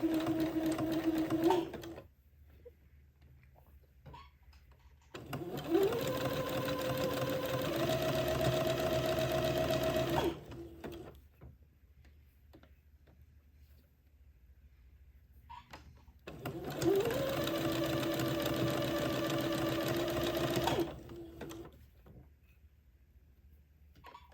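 Sewing machine zigzag stitching entredeux lace onto sashing for a funeral pall, three bursts of rapid mechanical whirring of several seconds each with quiet pauses between, close and steady.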